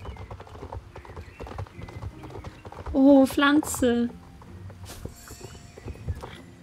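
Horse hooves clip-clop in a steady walking rhythm while riding in the video game Star Stable Online, with a brief whinny in the middle and a person talking over the hoofbeats.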